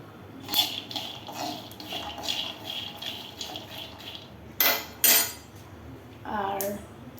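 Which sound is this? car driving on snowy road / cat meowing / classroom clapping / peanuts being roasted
peanuts being roasted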